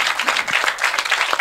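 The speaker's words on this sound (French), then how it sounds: "vous avez le droit de les applaudir" Audience members at a conference on French strategy in the Sahel clap together in a short, dense burst of applause that stays fairly steady throughout.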